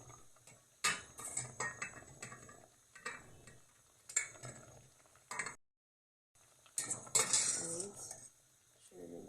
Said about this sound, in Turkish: Şimdi alalım tencereden. Suyunu süzelim güzelce.